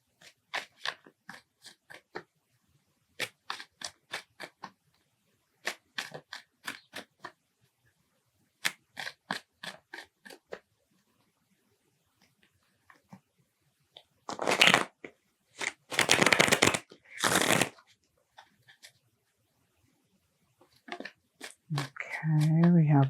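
Tarot cards riffle and flick in several quick bursts separated by pauses, followed by louder shuffling noise and a rustle near the end.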